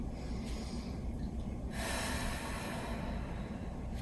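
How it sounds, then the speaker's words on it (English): Sharp breaths drawn in and pushed out through the nose during a chair yoga session, a quick snorting pattern followed by a longer, steadier exhale, close and alone. "As you do this, breathing in and out through the nose, you can move faster than your breath here."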